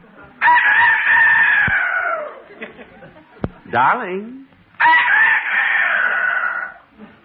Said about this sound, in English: No, that's the rooster. It's morning.